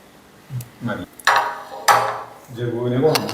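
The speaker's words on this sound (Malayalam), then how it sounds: "അപ്പൊ കഴിക്കാം, പ്ലേറ്റ് എടുക്കാം നമുക്ക്." Plates are picked up and handled in a home kitchen to serve chicken noodles, with a few sharp clinks and knocks of dishware alongside a little talking.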